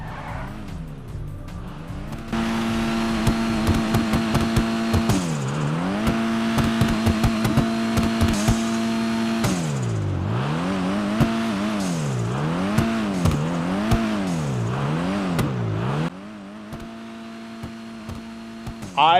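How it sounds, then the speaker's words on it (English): Turbocharged Dinka Kanjo SJ, the in-game version of a 1996 Honda Civic, driven in GTA Online: the engine and exhaust rev up and down repeatedly in loud, continuous swells, with turbo whoosh and the occasional tire squeal, and no talking. "I like the engine sound and the way the exhaust sounds with the turbo."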